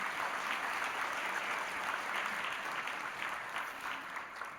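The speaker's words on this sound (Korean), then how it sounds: "우리 감사의 박수 한번 드리겠습니다" A church congregation at a Christmas service gives a round of thankful applause, a steady patter of many hands clapping together, moderately distant and fairly soft, gradually thinning toward the end.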